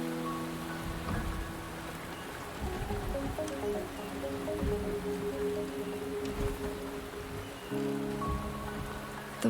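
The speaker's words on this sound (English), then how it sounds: "The rain is subsiding, and the sky will soon clear." Rain in the video game Wuthering Waves patters steadily at a moderate level, with soft drop impacts and a low tonal hum beneath, continuous throughout.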